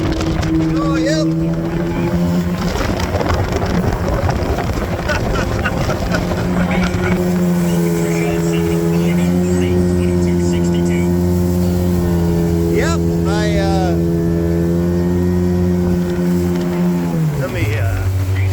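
An Ultranautics Jetstar jet boat engine runs steadily with a loud, continuous droning hum that drops in pitch near the end as it slows, while someone talks over it.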